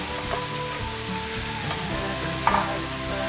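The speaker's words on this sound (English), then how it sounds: "Brown the seitan the way you would brown meat, first by sauteing onions and garlic" Seitan browns in a pan with sautéed onions and garlic. A continuous soft sizzle carries a few stirring clinks and scrapes.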